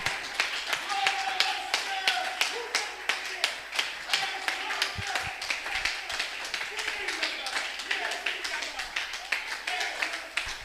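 A church congregation claps in acclamation during a worship service, a dense, steady run of hand claps with singing and voices carrying underneath throughout.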